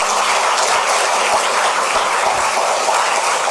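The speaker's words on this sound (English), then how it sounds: "So a loud round of applause." An audience at a talk event applauds, a dense, steady wash of clapping that fills the whole stretch with no pauses and no voices.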